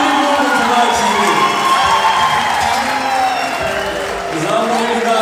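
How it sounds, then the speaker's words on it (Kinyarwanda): Crowd at a family ceremony cheering, clapping and ululating loudly and steadily, with shouts and voices mixed in throughout. "Amashyi menshi cyane n'impundu tubakire"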